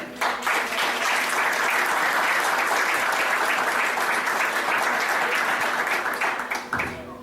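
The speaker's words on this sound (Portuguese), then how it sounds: "Vamos aplaudir, irmão." A congregation at an evangelical Pentecostal church breaks into sustained applause, a dense, even wash of many hands clapping for several seconds before tapering and stopping abruptly near the end.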